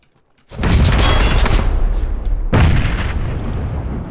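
Gunfire from PUBG comes in two sudden loud bursts of rapid, dense shots and booms that decay into a reverberant tail. No voices are heard.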